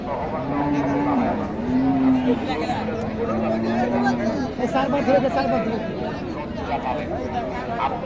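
Cattle low repeatedly at Mataji Hat, a traditional livestock market in Naogaon district, with long drawn moos rising over a steady crowd murmur and people talking nearby.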